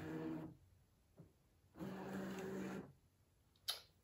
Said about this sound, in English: I'm going to load the mat by pressing that button there, and the mat is taken in